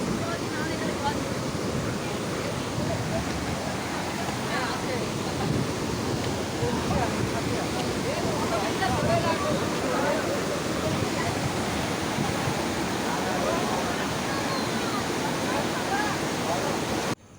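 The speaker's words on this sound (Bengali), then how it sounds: "দেখো কীভাবে জলটা যাচ্ছে, একবার আওয়াজটা শুনে" Floodwater rushes and flows in a loud, steady, broadband roar that never lets up, close by and dominating, with no clear voices over it.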